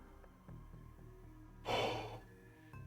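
A single breathy yawn, rising into a drawn-out exhale for about a second, fairly close and quiet against a faint game soundtrack, during a Shadowrun Returns stream.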